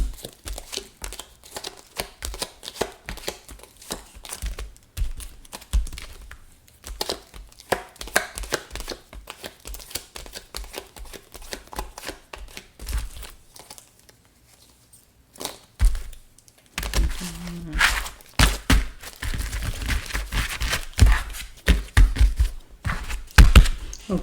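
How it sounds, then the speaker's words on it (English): Tarot cards are gathered up and put back in their place, giving close, busy tapping, knocking and crinkling handling noises that grow denser and louder toward the end, with no talking. "I'm just going to put these cards back where they belong."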